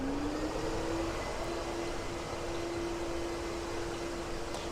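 A Nilfisk wet vacuum cleaner runs steadily in auto mode, giving a loud, continuous broadband rush of suction with a faint, steady motor whine underneath.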